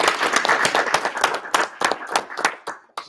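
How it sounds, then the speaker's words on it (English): A small audience claps at an evening chapter meeting, a quick run of sharp, close hand claps with uneven rhythm that thins out and stops near the end. "All right, everybody, clap for her again"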